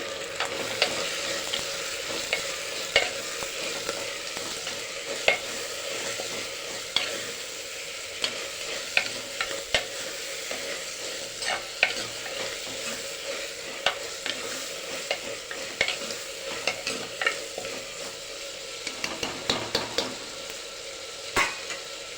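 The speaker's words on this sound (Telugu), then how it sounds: "ఇప్పుడు టమోటా వేసుకున్నాము టమోటో పచ్చిమిర్చి మంచిగా వేగిపోతాయి" Tomatoes and green chillies fry and get stirred in a pan, a steady close sizzle with repeated scraping stir strokes throughout, no talking.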